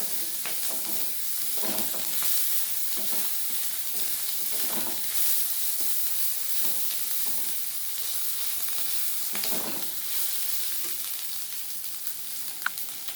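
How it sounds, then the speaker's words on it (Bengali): Steady sizzling of garlic, chilies and onion frying in a hot pan, with occasional soft stirring and scraping beneath the constant hiss. "দিয়ে আবার একটু ভেজে নেব যাতে রসুনের কাঁচা ভাবটা চলে যায়"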